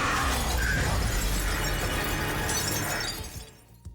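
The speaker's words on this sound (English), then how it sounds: "Rachel unleashes her darkness, shattering every window" Every window shatters at once, a loud sustained crash of breaking glass that rings on for about three seconds before fading into a few scattered tinkles.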